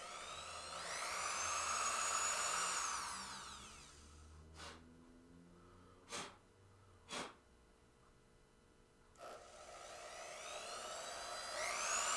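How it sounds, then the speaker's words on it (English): A power drill boring into a new pinball playfield whines up and down loudly at the start, then gives a few sharp knocks before spinning up again at the end. "It's not fun to drill into your new playfield."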